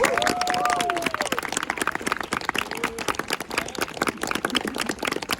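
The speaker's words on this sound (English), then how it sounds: "Give them another round of applause" An audience applauds the 1st Marine Division Band from Camp Pendleton, California, with brisk, dense clapping that is loud at first and then thins and fades over a few seconds.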